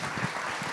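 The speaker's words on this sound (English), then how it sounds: "applause in the audience as well" An audience applauds at a Ukraine fundraiser event, with a dense, steady wash of clapping over a brief moment.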